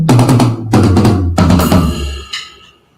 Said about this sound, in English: and then each of the toms.